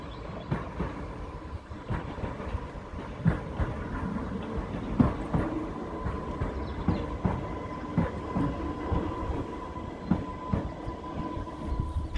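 Train ride out of Ryde St John's Road station on the Isle of Wight: a steady, close interior rumble of a moving carriage with regular clicks and clacks of wheels over rail joints, no voices.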